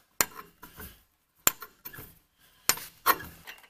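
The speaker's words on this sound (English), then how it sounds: "Then go ahead and tighten them down." Lug nuts are tightened on a 2021 Chevy Silverado spare tire, giving four sharp metallic clinks, each followed by short rattling scrapes, with quiet pauses between them, close by and without talk.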